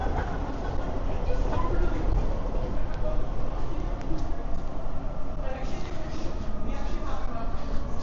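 Steady rumble of a train at a Vancouver transit station, a continuous low roar with rattling along the length of the platform, with people talking underneath.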